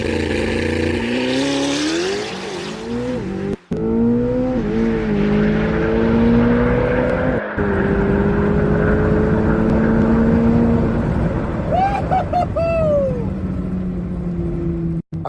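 A 1120-horsepower Chevrolet Corvette C8 ZR1 engine roars at full throttle, its pitch climbing through several sharp gear shifts, loud and close throughout.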